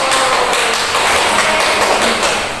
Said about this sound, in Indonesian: Berikan aplaus untuk kelompok 1.